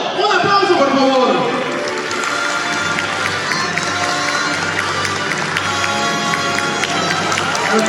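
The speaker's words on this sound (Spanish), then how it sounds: "¡Un aplauso, por favor!" An audience at a fan convention panel breaks into applause and cheers, loud at the start and then settling into scattered clapping, with a host's voice speaking over the crowd.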